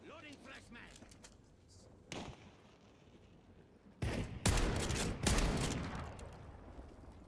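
Cyberpunk 2077 gunfire: scattered shots, then heavy bursts of fire that grow loud and dense toward the end, with a voice briefly heard in the game.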